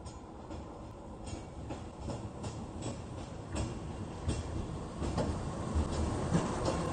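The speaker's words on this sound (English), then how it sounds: "Here comes the tram." A tram rumbles steadily past close by, wheels clattering on the rails in a continuous rolling din that builds slightly toward the end.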